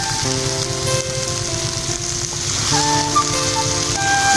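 Jackfruit seeds, soybean chunks and potatoes sizzle steadily in hot oil while being sautéed, a close, continuous crackling hiss with faint stirring, no voices heard.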